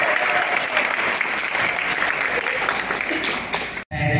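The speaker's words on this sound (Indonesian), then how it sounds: "Kasih tepuk tangan dong. Tepuk tangannya yang ikhlas. Lebih ikhlas lagi." Sustained applause from an audience at a school leadership day, dense and steady for about four seconds, then cut off abruptly near the end.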